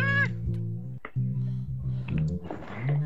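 A person's voice imitates a cat, giving a couple of drawn-out meows up close, interrupted by a brief sharp noise, during a session of the game Killing Floor.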